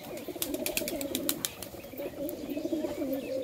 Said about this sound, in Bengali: প্রচুর পায়রা, 3 খাঁচা পায়রা তাই না?